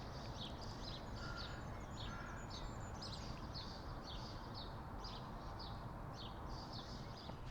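Birds calling from trees nearby, short repeated chirping phrases in a steady series over a constant outdoor background hiss, moderately faint and with no talk.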